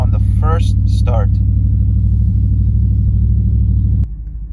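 A B7 Audi RS4 V8 settles into a cold-start idle with a steady, loud low rumble that drops in level near the end; a person speaks briefly over it at the start.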